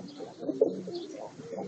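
Soft, low pigeon cooing from birds about to be fed, continuous and murmuring at close range with a brief louder note partway through.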